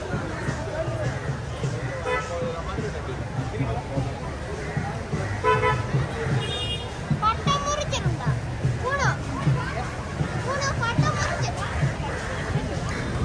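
Busy road traffic near a crowded temple festival in Jaffna, with car horns tooting repeatedly over a continuous murmur of engines, while people and children talk in the background.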